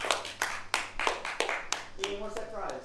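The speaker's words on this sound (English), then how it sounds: "Round of applause for the 3 people who got 44." A small audience at a quiz night gives a brief round of applause for the winners, a handful of people clapping in a loose rhythm nearby while a voice talks over the end.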